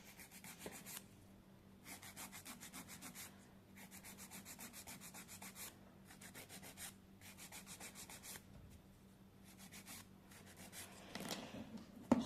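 A fingernail is filed with a nail file in slow, even strokes, bursts of raspy scraping repeating in short sets with brief pauses, close and quiet.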